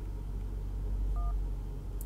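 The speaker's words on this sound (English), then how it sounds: "If you can't talk, please press any digit on your phone" A single short telephone keypad tone from the 911 Operator video game sounds once midway through, clear over a steady low rumble, with no voices.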